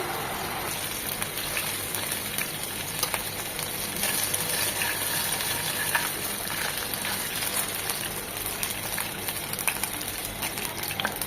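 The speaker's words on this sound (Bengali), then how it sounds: "ওই পাশটা ঠিক 1 মিনিট এভাবে হালকা করে ভেজে নেব" Bele fish frying lightly in hot oil, a dense, even crackling sizzle that holds steady and close throughout, with no voices.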